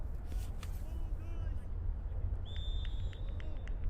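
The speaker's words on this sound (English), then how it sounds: "The whistle." A referee's whistle sounds just after a penalty kick at a Cosmopolitan Soccer League Division 1 soccer match, one sustained shrill blast lasting about a second over a steady roar of crowd and field noise.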